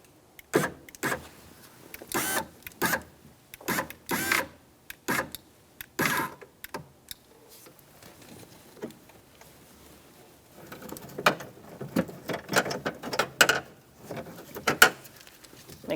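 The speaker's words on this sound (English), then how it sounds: "Now we're going to go up with the window regulator and" Electric window regulator motor on a 2007-2017 Ford Expedition raising the glass in a series of short whirring bursts, close and fairly loud, separated by brief pauses, with a denser run of motor pulses toward the end.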